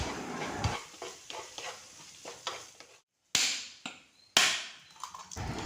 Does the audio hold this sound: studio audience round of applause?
no